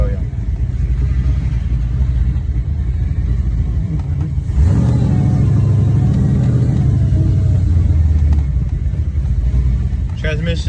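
A 1996 Chevrolet Impala SS accelerating, its engine rumble rising in pitch, then surging again after a gear change and climbing steadily, loud and close, with talk heard in the clip.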